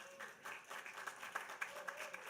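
An audience at a Jerusalem conference held in New York applauds, with soft, scattered clapping that stays faint and steady and sounds distant.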